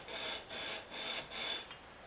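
A plane iron is sharpened by hand on abrasive in left-to-right strokes, four steady rasping passes about half a second each with brief pauses between, close and clear with no talk.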